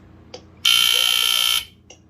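A BRK 2839ACWI smoke alarm blares one piercing, high-pitched blast for about a second, with brief chirps just before and after.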